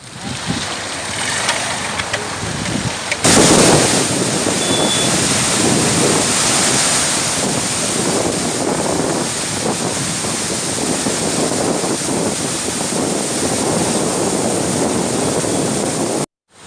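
Floodwater surges through the lifted gates of the Musi project dam after heavy rain. It begins abruptly as a loud, unbroken roaring rush that continues steadily for about thirteen seconds and then cuts off.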